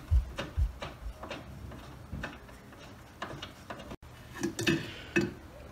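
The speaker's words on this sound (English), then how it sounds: "I'll just do it the old-fashioned way with a spanner, a wrench, and a socket." A socket wrench ratchets against a ball joint on a 1986 Nissan 300ZX Turbo, giving close, quiet, irregular clicking strokes in short bursts.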